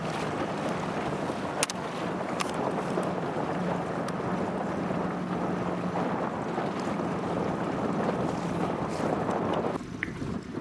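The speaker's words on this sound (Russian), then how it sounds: "Ветер сильный," Strong east wind buffets the microphone on open water while fishing, a steady broadband roar of gusts and rustling with a faint low hum running underneath throughout.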